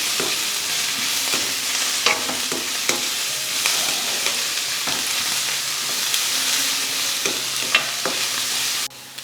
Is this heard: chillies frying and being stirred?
yes